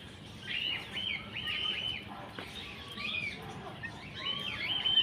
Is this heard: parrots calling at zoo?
yes